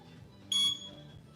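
A workout interval timer gives a single short, bright electronic beep, faint against a quiet room.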